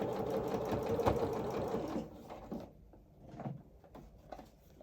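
Sewing machine stitching a coveralls pleat, a dense rapid run of stitches for about two seconds that then stops, followed by a few quieter clicks and handling noises close by.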